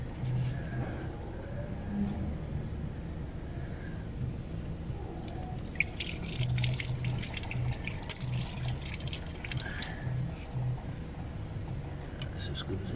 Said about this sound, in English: Just let some of the rest of the water out, without the pump coming flying off